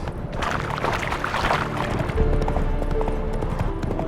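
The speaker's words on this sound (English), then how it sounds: "Bloody fine mount. Good stance, powerful rub, stable withers." Horse hooves clip-clop at a steady walking pace in The Witcher 3: Hearts of Stone, close and clear over ambient game sound, with a brief louder stretch partway through.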